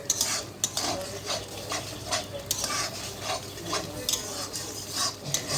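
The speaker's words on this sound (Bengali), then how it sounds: "এখন আমি মশলাটা অনেকক্ষণ ধরে নাড়াচাড়া করব।" A utensil scrapes and stirs masala spices with turmeric around a pan in repeated strokes, clinking against the metal over a soft background sizzle of oil.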